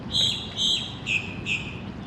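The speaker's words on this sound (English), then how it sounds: "Got a lot of birds trying to wake everybody up." Birds chirp at sunrise over a marina in St. Augustine, Florida, with about four bright, high twittering calls in a steady rhythm, clear and fairly close over a low background hum.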